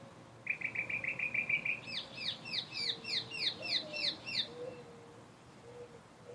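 Birds chirping outdoors, a quick run of rapid trilling notes followed by a sequence of repeated chirps, moderately near over faint background noise and lower calls.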